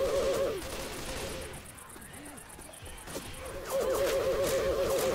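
Rapid bursts of gunfire crackle in quick repeated shots in Left 4 Dead 2, pausing briefly before another loud volley resumes; sounds like game weapon effects.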